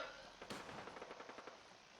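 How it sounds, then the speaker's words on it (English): Faint, distant gunfire in the video game Fallout 4 rattles off in a rapid burst of about a dozen shots, then trails away. "I'm hearing gunfire in that direction."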